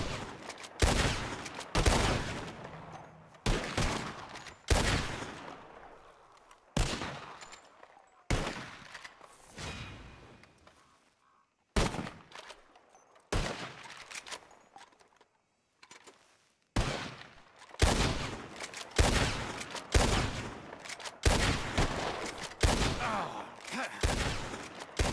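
Rapid gunfire cracks out in a shooting contest in Red Dead Redemption 2, loud, sharp reports in quick clusters and volleys with short quiet gaps between them.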